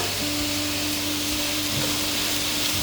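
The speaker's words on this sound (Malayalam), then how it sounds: "ഇനി കുറച്ച് നേരം നമുക്ക് നന്നായിട്ട് പഴട്ടി കൊടുക്കാം" Onions with curry leaves sauté in a pan for Kerala beef fry, giving a continuous, even sizzle with a faint hum underneath, close and steady with no talk.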